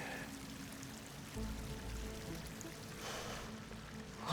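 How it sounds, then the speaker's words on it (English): Water pouring into an enclosed underground space in Horizon Forbidden West: a faint, steady trickling and gushing stream with a low rumble, no talking. "Water's coming in."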